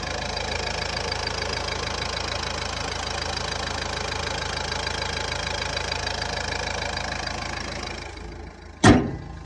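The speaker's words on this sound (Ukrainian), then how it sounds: "не показував я вам, як працює двигун. Зараз відкриваємо, слухайте" A 2011 Nissan Qashqai's 1.5-litre diesel engine idles with a steady, rumbling diesel chatter, ending in a sudden loud clunk near the close.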